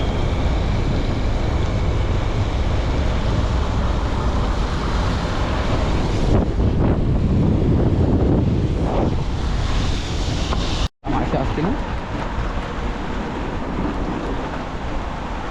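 Swollen river floodwater in Konkan rushes past the Sakharpa-area border bridge during heavy monsoon rain: a loud, steady broadband roar with no voices, briefly cutting out for an instant near the end.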